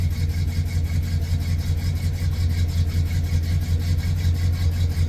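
A 1968 Oldsmobile Delmont 88 V8 idles just after a cold start on Thanksgiving, a close, steady low rumble with a fast, even exhaust pulse and slight roughness throughout.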